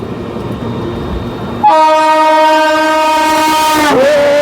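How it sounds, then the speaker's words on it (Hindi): The 22415 Varanasi–New Delhi Vande Bharat Express sounds a long, loud, steady horn close by, starting abruptly after a stretch of rumbling rail noise and bending in pitch just before it ends. "अब सामने से आ रही है 22415 वाराणसी नई दिल्ली वंदे भारत एक्सप्रेस"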